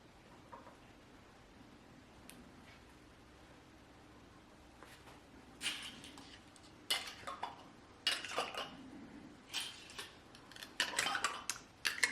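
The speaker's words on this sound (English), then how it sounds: "On go the lids, rings finger tight." Metal lids and screw rings go onto glass canning jars of ground beef for pressure canning, a run of faint clinks and scrapes that grows busier and louder toward the end, with no talk.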